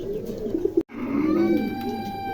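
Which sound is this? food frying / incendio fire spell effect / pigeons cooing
pigeons cooing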